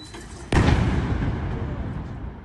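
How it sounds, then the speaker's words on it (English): A missile strike on Kyiv: a single sudden, heavy explosion boom after a quieter stretch, followed by a long, loud rumbling decay. "A very massive explosion."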